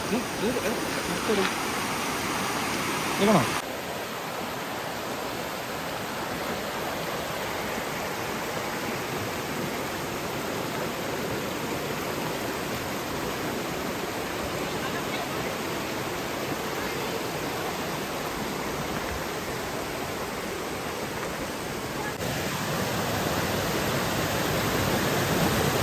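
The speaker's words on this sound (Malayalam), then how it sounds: "നിങ്ങൾക്ക് ഈ സൗണ്ട് തന്നെ കേൾക്കാം വെള്ളത്തിന്റെ സൗണ്ട് കാരണം വേറെ ഒന്നും കേൾക്കുന്നില്ല" Steady, loud rushing of Tiffany Falls in Hamilton, Canada fills the whole stretch, a dense broadband roar with no pauses, close by and overwhelming other sounds.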